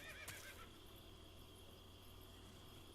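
A horse neighs briefly near the start in Metal Gear Solid 3, a short whinny at low volume over a steady, quiet ambient background.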